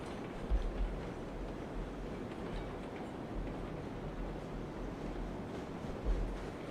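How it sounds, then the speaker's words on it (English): A train rolls along rails in the video game RailRoads Online, a continuous low rumble with faint periodic thumps and clacks, fairly quiet and steady with no talk. "Train's probably starting to go too fast. It's gonna hit the end of the rail and derail"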